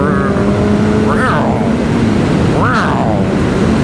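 A Kawasaki Ninja ZX11 motorcycle engine runs loudly and steadily nearby, with two quick revs rising and falling in pitch; a voice can be heard in the mix.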